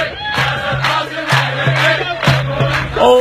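Al-Zawraa football fans chant in unison to welcome Yasser Qasim, a loud crowd repeating a rhythmic, sung phrase with regular beats, close and energetic.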